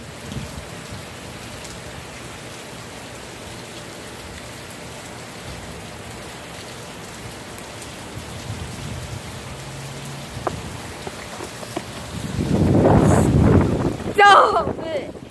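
Hurricane Michael's wind and rain roar against the microphone, a steady wash of rain that builds into loud gusty buffeting near the end.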